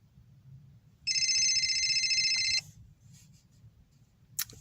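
A telephone rings with an incoming call, a single sustained electronic ringtone burst of about a second and a half, clear and fairly close, with a quiet background and a short click afterward.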